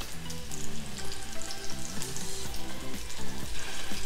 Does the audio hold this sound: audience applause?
no